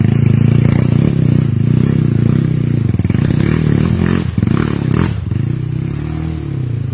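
Dirt bike engines rev hard on a city street in the Philippines, a loud, continuous buzzing roar close by with rising throttle bursts and some clatter, briefly dipping near the end.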